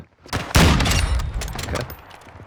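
Sniper gunfire in Call of Duty: Modern Warfare II, a sharp loud shot followed by a burst of crackling rapid reports that decay over a couple of seconds.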